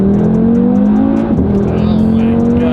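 An Audi RS3 driving on the road, with a steady engine drone and road and tyre noise that stay loud and continuous, and one brief dip in the middle.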